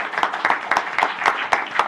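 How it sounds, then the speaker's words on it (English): Applause from a city council meeting audience, a steady patter of many hands clapping at a moderate distance with regular bursts, heard alone. "They're going, what did we do to get applause?"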